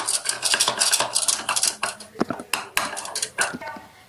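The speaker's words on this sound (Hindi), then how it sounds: "थोड़ा थोड़ा करके इसको हम बीट करेंगे" A spoon beats tutti frutti fruit cake batter in a bowl, giving rapid rhythmic clinks and scrapes against the bowl that slow into sparser, sharper taps, close and with no voices.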